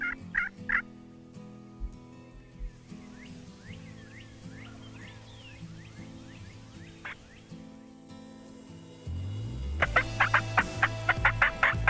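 Wild turkeys gobble in the field outside a makeshift hunting blind: several rapid, rattling gobbles from one bird close by, a scattering of fainter, more distant calls, and a louder burst of gobbling near the end.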